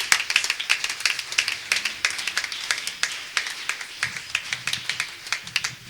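A church congregation claps in acclaim of the Lord, sharp hand claps in a quick uneven rhythm, moderately close and fairly quiet, with no voices over them.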